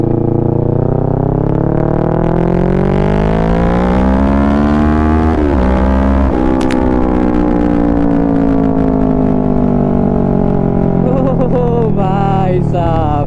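Kawasaki Ninja 650 motorcycle with a Mivv full-system exhaust, loud and close, its engine note climbing steadily through the revs over a sustained ride, with brief shifts and a dip in pitch midway.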